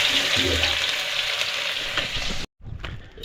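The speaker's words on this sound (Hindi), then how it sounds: "तो जखे का तड़का लगाते हैं हम फर्स्ट क्लास" Loud, steady sizzling of garlic frying in hot oil, continuous crackle that cuts off abruptly near the end, then resumes more faintly.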